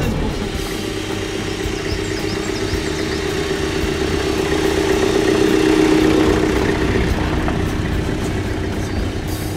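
A Renault Express van engine labours steadily on a steep 4x4 trail descent, a continuous mid-pitched drone that rises slightly in the middle, with a faint whine layered over it and no talking.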